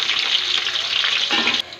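Cumin and green chillies sizzle loudly in hot oil for a tadka, a dense crackling fry heard up close, with a brief stir-like shift near the end and no talking.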